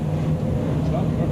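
An LS V8-powered drift car's engine drones steadily at a distance over a short stretch, with a commentator talking over it.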